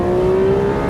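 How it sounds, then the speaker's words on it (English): A Ferrari 12Cilindri engine revs up in a brief, loud, steady rising tone, heard alone without talk. "The engine is quite wonderful"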